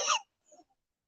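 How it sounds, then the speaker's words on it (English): A single short pollen-induced cough, close and fairly loud, followed by a faint smaller throat sound, then silence. "I told y'all this pollen makes me cough."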